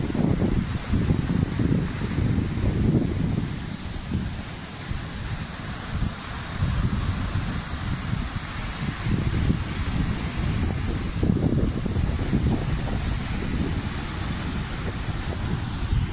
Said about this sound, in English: Are you hearing that wind?